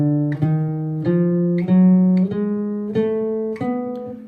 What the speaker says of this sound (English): So here's the diminished scale.